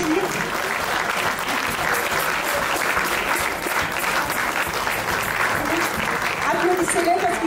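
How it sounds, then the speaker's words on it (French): Sustained audience applause at a music festival in Taninges, Haute-Savoie, steady dense clapping from a large crowd throughout, with a voice speaking over it. "Ouais, vous pouvez les applaudir."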